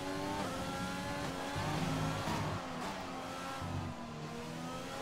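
F1 race car engine screaming through the Mexican Grand Prix in a racing video game, a high harmonic whine rising and dropping with gear shifts, loud and continuous with no talk.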